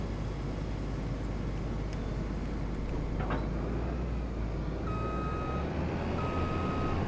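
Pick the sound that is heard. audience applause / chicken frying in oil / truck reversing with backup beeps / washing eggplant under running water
truck reversing with backup beeps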